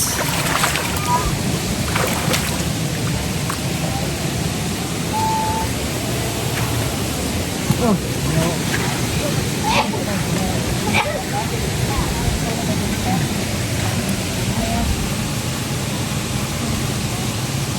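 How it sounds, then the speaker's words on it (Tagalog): Splashing and wading in cold water at an outdoor resting spot, a steady broadband wash of moving water with occasional sharper splashes, under faint background voices. "So tampisaw tayo dito sa malamig na tubig at napaka-presko."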